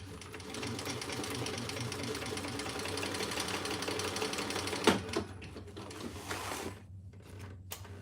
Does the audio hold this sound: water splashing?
no